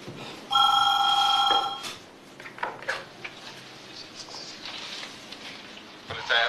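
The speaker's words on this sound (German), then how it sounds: "Das Telefon klingelt." A telephone rings with a single loud, bright electronic burst close by in an indoor scene, then a quieter room follows with faint clinks and shuffling.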